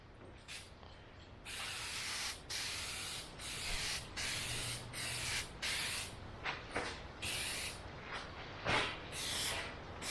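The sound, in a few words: spraying first coat onto Jeep Wrangler instrument cluster lens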